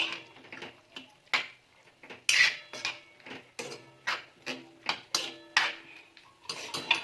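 A spoon stirs salt into an aubergine curry in a metal pot, scraping and clinking against the sides in a quick, steady rhythm of about two strokes per second, close-up with no talk.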